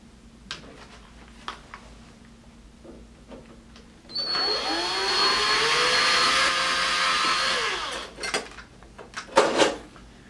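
A power screwdriver whirs close up for about four seconds, rising and falling in pitch as it backs a screw out of the metal end plate of an LED light fixture, with scattered clicks and small metallic clatters before and after.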